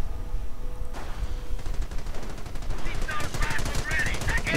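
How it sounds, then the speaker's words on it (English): A heavy machine gun in the Company of Heroes strategy game opens up in a rapid, steady rattle of bursts that grows denser and louder over a busy battlefield din, with a commentator talking. "Heavy machine gun getting caught out there in the open."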